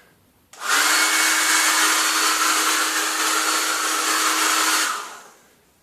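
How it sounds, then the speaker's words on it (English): A hairdryer runs steadily at close range on fresh paint on woodwork, a loud even blowing whir that starts abruptly, holds for about four seconds and cuts off with a short fade, with no talking. "keep the hairdryer a reasonable distance away and don't hold it in one spot"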